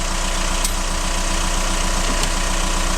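Citroën C5 2.0 HDi diesel engine after a turbo replacement, running at a steady loud idle with a dense continuous rumble close by, no talking.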